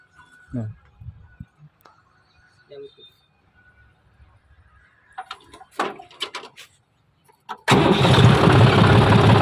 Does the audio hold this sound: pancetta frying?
no